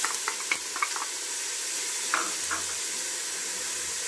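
Onion, pepper and garlic sizzle steadily in a pan for a sofrito, a continuous hiss of frying punctuated by a few light clicks and scrapes of stirring near the start.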